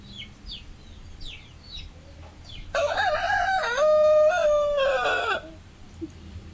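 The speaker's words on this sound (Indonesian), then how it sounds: "Ya jago kokok ya" A rooster lets out a single loud, close cock-a-doodle-doo crow lasting a few seconds, with fainter bird chirps before it and quiet background afterward.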